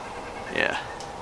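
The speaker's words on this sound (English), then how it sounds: "There's a white-breasted nuthatch making that noise" A single short, nasal call of a white-breasted nuthatch rings out once above a steady hush of outdoor background noise on a hiking trail.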